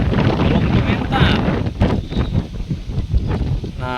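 Strong wind gusting across the microphone at Ciwidig beach near a river mouth in South Cianjur, a loud continuous rushing roar with surf noise underneath, heard alone.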